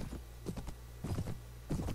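Horse hooves clip-clop in Anno Domini 1257, a few short clusters of soft, close hoofbeats spaced across a quiet moment without talk.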